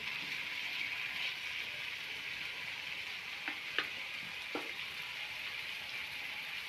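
Potatoes fry in a pan with a steady, even sizzle, and a few soft scrapes of a spoon stir them partway through. No one speaks.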